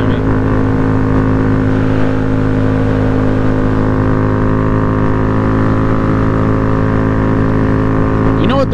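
A motorcycle engine drones steadily while riding, loud and close with sustained harmonic hum and a slight rise in revs near the end.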